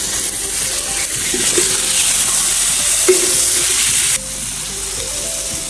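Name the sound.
tilapia fish frying in hot pan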